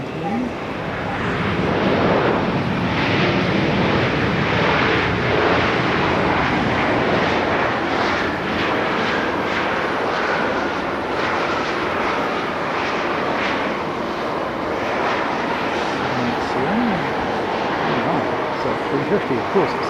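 An Airbus A350 airliner landing at Haneda produces a broad, rising and sustained jet roar that swells early and then eases slightly, with a voice talking over it.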